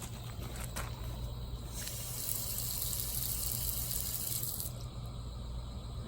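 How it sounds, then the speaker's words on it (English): Water sprayed from a flat nozzle through the tubes of a GM bus radiator, reverse-flushing them: a steady, close hiss of spray holding at an even level for several seconds, with no talk. "I'm using the flat nozzle, and I can spray through each and every tube and reverse spraying it."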